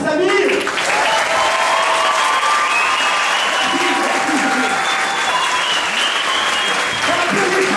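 A dense, loud wash of audience applause for the performer Samir at an event's closing show, steady and sustained throughout with crowd noise and a few voices mixed in.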